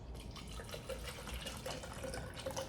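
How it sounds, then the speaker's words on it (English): Cold water being poured into a shaker for an isolate protein shake, a soft steady trickle and splash, close and faint, with no talking. "gonna pour some water into this one"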